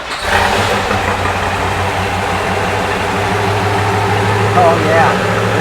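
A 427 Corvette V8 with 511 horsepower, fitted in a 1960s Impala, idles loud and close with a steady rumble and light lifter ticking, while voices talk faintly over it.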